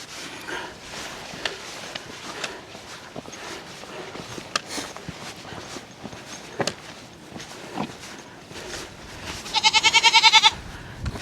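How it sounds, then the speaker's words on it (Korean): An adult goat and a young kid bleat in the trail country of Tiger Leaping Gorge, Yunnan, with scattered short calls and rustling footsteps, then a loud, quavering, pulsing bleat near the end. "큰 염소랑 새끼 염소야"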